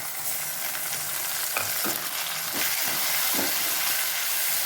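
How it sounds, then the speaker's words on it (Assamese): Ginger and garlic fry in oil, sizzling and crackling steadily, with a few scraping stirs mixed into the continuous frying hiss. "এতিয়া আদা নহৰুখিনি দি দিছোঁ, সেইখিনিও ভাজি ল'ম অকণমান"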